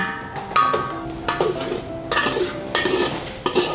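A mango and pointed gourd curry is mixed in a pan, with repeated scraping strokes and metallic clinks of a spoon against the pan over a faint sizzle, close and rhythmic.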